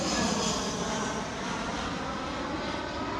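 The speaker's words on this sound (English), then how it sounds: "Here comes a plane, but we're gonna keep going." An airplane flies overhead, a steady broad engine roar that holds level and fills the whole stretch without clear peaks, moderately loud and alone with no talk.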